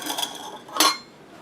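Krumkake batter with flour being mixed in a bowl: brief clinks and scraping of a utensil against the bowl, close and fairly loud, fading out after a second.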